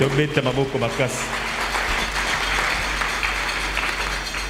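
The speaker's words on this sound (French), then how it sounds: "Acclamons très fort pour lui" A church congregation breaks into loud, sustained clapping that swells into a dense wash of applause after a brief stretch of a preacher's voice.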